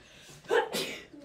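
A single sharp sneeze sounds close by in a quiet classroom-like room, a quick intake followed by a burst.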